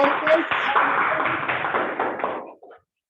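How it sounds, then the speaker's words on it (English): Toastmasters meeting audience applauds a speaker, a steady wash of clapping heard through a band-limited line that fades out after about two and a half seconds, then cuts to silence. "A big round of applause once again"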